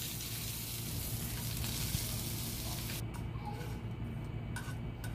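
Curry leaves dropped into hot oil for a tempering for chutney, giving a steady close crackling sizzle throughout that thins and eases partway along, no talk.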